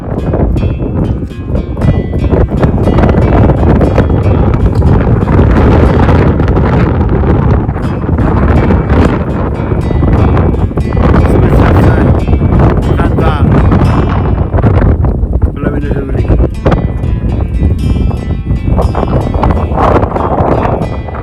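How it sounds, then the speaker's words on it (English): Strong mountain wind roars into the microphone on a high winter wild camp near Fan Fawr, a loud, continuous buffeting rumble that barely lets up from start to finish. "as we got higher and higher, the windier and windier it got"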